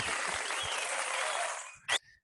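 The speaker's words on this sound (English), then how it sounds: "Give Irene a round of applause." An audience claps steadily for about two seconds at a live showcase performance, a dense burst of applause that fades out, followed by a brief sharp knock.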